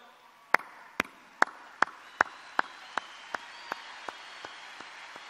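Sparse, evenly spaced claps at a political rally during Erdoğan's speech, about a dozen sharp hand claps in a slow steady rhythm, fading slightly, with no talk.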